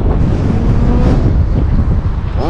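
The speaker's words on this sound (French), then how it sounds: "il y a un petit vent" Steady wind blows hard across the microphone outdoors on grass, a continuous loud rumble and buffeting with no voices.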